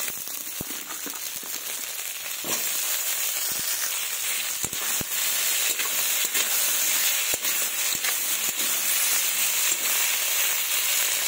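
Beans and potatoes fry in hot oil with black cumin (kalo jeere), giving a loud, continuous sizzling hiss dotted with sharp pops and crackles, near and steady throughout, with no talk.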